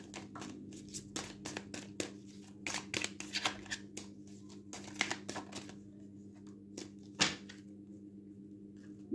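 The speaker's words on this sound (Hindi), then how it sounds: "दो कार्ड निकालेंगे ताकि पता चले कि रोमांस एंजल्स क्या कहते हैं आपके पार्टनर के लिए" Tarot cards shuffled and drawn at a card reading: faint, close riffling and flicking of cards in irregular bursts over a low steady hum.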